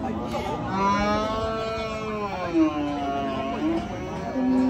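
Cattle at a crowded Eid al-Adha cattle market in Bangladesh, with a long, close, loud moo followed by shorter lowing calls, over a background of market voices.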